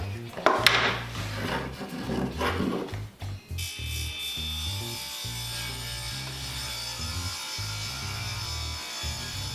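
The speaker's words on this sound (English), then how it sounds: "so we're gonna go ahead and take it out of the clamps" A glued wooden featherboard is released from its clamps with a few loud ratcheting clicks and knocks at first, then a steady mechanical whir continues close by for several seconds.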